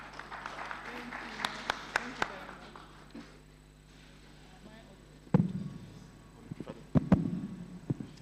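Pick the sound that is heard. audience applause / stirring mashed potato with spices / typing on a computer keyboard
audience applause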